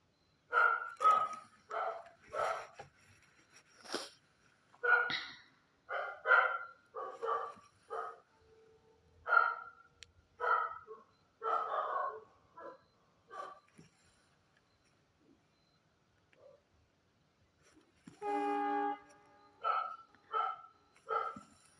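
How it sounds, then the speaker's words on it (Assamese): A dog barks repeatedly in short bursts, fairly close, with a brief pause midway before the barking resumes. "এয়া আমাৰ চনীয়ে ভুকি আছে।"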